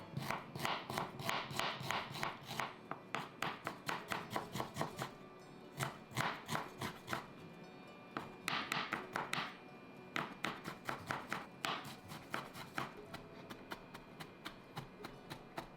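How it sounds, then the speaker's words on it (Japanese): A knife minces peeled ginger on a cutting board while daikon mochi is prepared, with rapid, close, crisp chopping taps in fast bursts separated by short pauses. "生姜も皮を剥いてみじん切りにします。"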